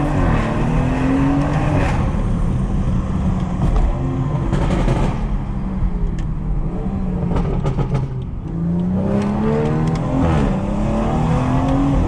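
Modified BMW 440i in Sport Plus mode accelerating hard from inside the cabin, loud continuous engine roar rising through several gears with shift breaks and steady road noise throughout.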